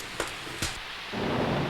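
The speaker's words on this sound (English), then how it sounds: "The rain spattered against Willie's window with a pitter-pat." Steady rain spattering against a cottage window, a soft hiss that swells louder near the end, broken early by two brief sharp taps.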